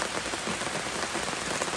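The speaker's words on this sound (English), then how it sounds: "We might have to do it in the rain." Steady rain falls onto a river, a dense, even hiss of drops pattering across the water with no pause and no voices.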